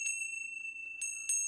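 A small bell rung during a livestream, three bright ringing strikes with long sustained overtones, quiet and fairly close, with no talking over them.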